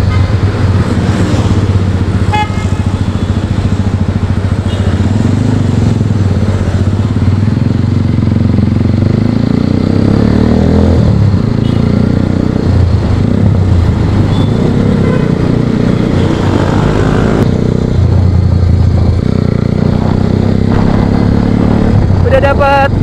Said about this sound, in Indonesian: udah sering banget gua ngetas motor di sini